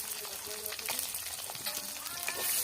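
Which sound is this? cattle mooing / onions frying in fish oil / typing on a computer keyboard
onions frying in fish oil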